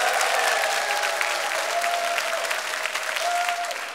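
Church audience applauding at Dongbu Gwangseong Church, a sustained, even wash of many hands clapping close by, lasting throughout with a faint steady tone beneath it.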